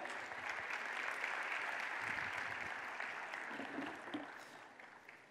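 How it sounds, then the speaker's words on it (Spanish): Audience applause for a volunteer at a corporate management event, a steady dense wash of clapping from a crowd that carries on for several seconds and thins slightly toward the end, with no talking. "Un aplauso para ella."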